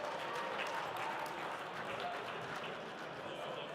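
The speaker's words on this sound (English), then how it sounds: "Round of applause" Audience applause fills a hall at the Design Slam event at Autodesk University in Las Vegas, 2017, as a continuous wash of clapping and crowd noise that fades slightly toward the end.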